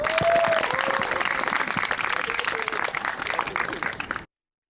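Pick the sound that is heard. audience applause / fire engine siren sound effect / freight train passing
audience applause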